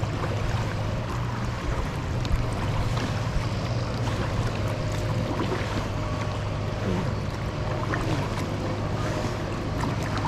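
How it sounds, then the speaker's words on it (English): Waves splash against a kayak paddling whitewater on the river Vilnia in Vilnius, a steady, close, continuous rush of churning water with no voices. "I'm getting splashed a little bit from the side here from the waves."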